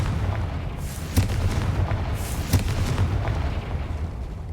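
The Confringo fire spell in the video game Hogwarts Legacy, two sharp booming blasts about a second apart, each with a bright crackling burst over a low rumbling bed.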